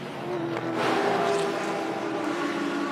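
Race cars lapping Mount Panorama during the Bathurst 12 Hour, a loud sustained engine roar that swells as a car passes nearby, with distant track noise behind.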